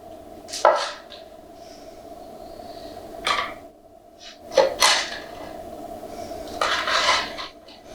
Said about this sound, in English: I use the tomato knife. I cut just a couple of slices.